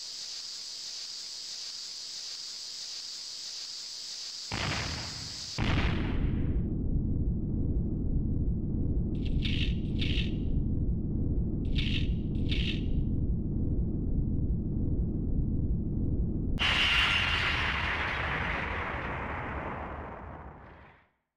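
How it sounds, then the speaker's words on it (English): Explosion in the video game Breath of Fire 3: after tones and a few short chirps, a long rumbling blast rolls on for many seconds, swelling with a hissing burst near the end before cutting off. "Hunkers down, waiting for the explosion."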